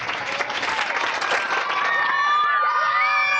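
A beach crowd at a sea turtle release cheers, claps and whoops loudly and continuously, with excited high shouts and whistles rising toward the end.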